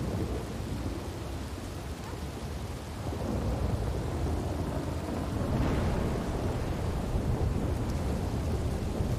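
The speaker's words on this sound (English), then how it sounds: "I can't hear you over the storm." A thunderstorm with heavy rain pours steadily throughout. Rumbling thunder swells partway through, the downpour grows louder, and no voices are heard.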